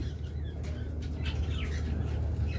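Pet lovebirds, budgerigars and cockatiels in cages give scattered chirps and tweets over a steady low room hum, with a brief flutter of wings among the calls.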